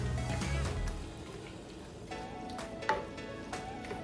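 Diced tomatoes with garlic and Italian sausage simmering and frying in a pan, a soft continuous sizzle with a couple of faint utensil taps.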